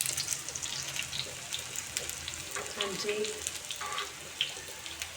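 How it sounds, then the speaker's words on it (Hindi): Pakoras fry in hot oil in a home kitchen during rain, giving a steady crackling sizzle with small pops close by, and someone speaks briefly over it. "पकौड़े बन रहे हैं, आवाज़ बड़ी आ रही है, वीडियो में भी आपको लगेगी आवाज़ काफ़ी।"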